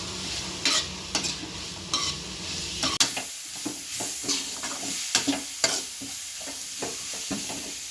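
Sliced onions frying in oil for an egg roast are stirred in a pan. A continuous sizzle runs under repeated scraping and clacking spoon strokes at an uneven rhythm. The sound is close and moderately loud, with no talking.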